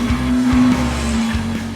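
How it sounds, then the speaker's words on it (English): A Ferrari engine drones on the Autodromo di Modena racetrack, a loud, close, steady tone with brief surges, and no voices. "Driving a Ferrari in Modena."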